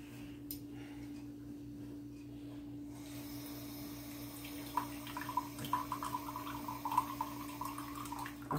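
Tap water runs into a container for making refrigerator pickles, a low steady hum giving way to a clearer trickle and splash about halfway through, fairly faint.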